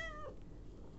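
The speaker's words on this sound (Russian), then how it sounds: "Совершенно белый кот." A white cat gives a single meow at the start, a short falling tonal cry that fades within a third of a second, leaving quiet room noise for the rest.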